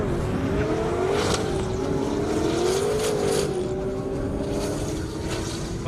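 A McLaren 720S of about 850 horsepower roars steadily on an airstrip drag run, its pitch climbing and dropping as it shifts through gears, loud and sustained with no voices.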